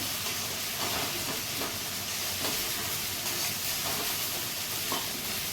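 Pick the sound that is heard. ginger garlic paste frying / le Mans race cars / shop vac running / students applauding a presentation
ginger garlic paste frying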